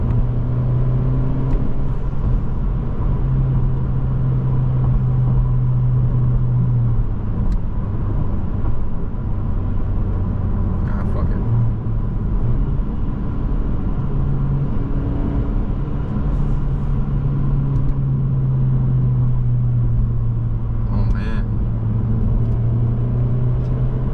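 A 2025 Honda Civic Si pulls hard along backroads, a continuous engine drone heard from inside the cabin that climbs steadily in pitch through the gears, with a brief dip between pulls.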